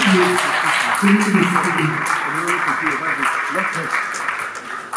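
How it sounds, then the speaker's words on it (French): Applause breaks out at a civil wedding ceremony, a moderate patter of hands under an officiant's speaking voice, tapering slightly toward the end. "Veuillez applaudir s'il vous plaît."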